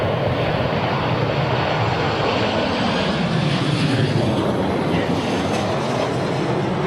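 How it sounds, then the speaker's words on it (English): A Boeing 737 on a fast approach into London Heathrow in strong storm winds, its dense, loud engine roar blended with gusty buffeting that stays constant and close throughout. "Usual sort of high-speed approach that we're used to seeing on the 737."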